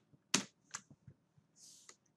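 Scattered computer keyboard keystrokes, a few sharp distinct clicks with uneven spacing in a quiet room, one a louder clack, then a brief softer rustle.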